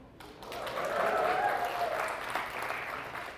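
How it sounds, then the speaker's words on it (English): An audience at a fundraiser breakfast claps in sustained, moderately distant applause that swells and then gradually tapers, with a voice faintly present underneath. "another big round of applause for Veronica there"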